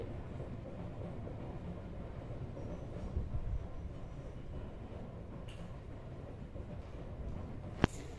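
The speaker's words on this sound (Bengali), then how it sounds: "ট্রেন যাচ্ছে ট্রেন যাচ্ছে বাবু ট্রেন যাচ্ছে ট্রেন ট্রেন" A train rumbling past at a moderate distance, a steady low roar with a sharp click near the end.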